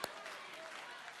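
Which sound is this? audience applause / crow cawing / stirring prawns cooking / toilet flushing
audience applause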